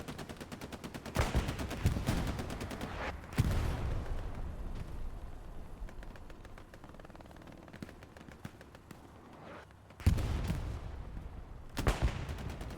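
Gunfire rattles through a Hold The Line tournament match on the Foy night map, rapid bursts and single cracks at varying distance, with heavier volleys near the start and again toward the end.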